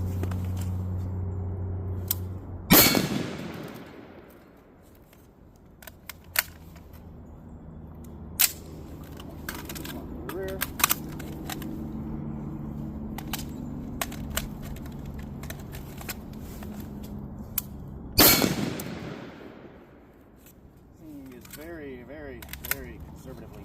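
Two loud, sharp gunshots from a rifle fitted with a Centurion 11.5 FBI upper, spaced about fifteen seconds apart, with clicks, handling noises and quiet talk in between.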